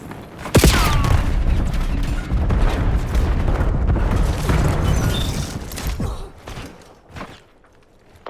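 An enemy precision missile strike in the Call of Duty Black Ops 7 multiplayer game: a sharp, loud blast followed by several seconds of heavy rumbling and crackling debris that gradually fades away.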